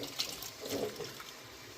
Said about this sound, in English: I just added in the sauce. Don't know how many, let's pour it in.